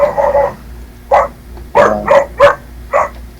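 A dog barks about five times, sharp loud single barks close by with short irregular pauses, with no talk.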